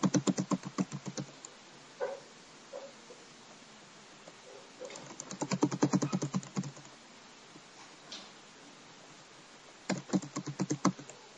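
Typing on a computer keyboard while working with tables in Microsoft Office, heard as quiet, close bursts of rapid key clicks separated by short pauses, with no talking.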